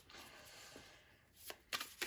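Tarot cards shuffled by hand in a soft, riffling rustle that builds into a few sharper bursts of card flicks near the end, close and fairly quiet with no talking.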